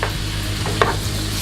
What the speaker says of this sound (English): We kind of just want to sweat the vegetables